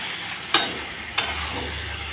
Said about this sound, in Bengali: এখন আলুর সঙ্গে আমি মশলাটাকে ভালো করে কষিয়ে নেব।